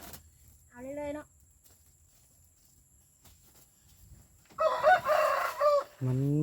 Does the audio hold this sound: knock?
no